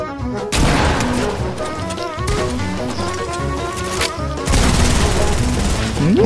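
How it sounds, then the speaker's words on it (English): Dense, loud gunfire from Fortnite rattles in rapid bursts and volleys, mixed with impacts and crashes, continuing almost without pause. "They're firing at me!"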